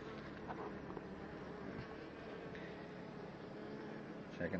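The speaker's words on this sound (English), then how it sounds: "You see the worker bees trying to start eating the front out." A dense, steady drone of many honey bees buzzing together close by at a nuc hive during queen installation, continuous throughout with a brief louder swell at the very end.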